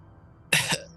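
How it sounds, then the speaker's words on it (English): A single close cough from a person, a short sharp burst followed by a softer second push, against a quiet background. "Cough a little bit."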